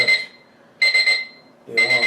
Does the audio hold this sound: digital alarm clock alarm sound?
yes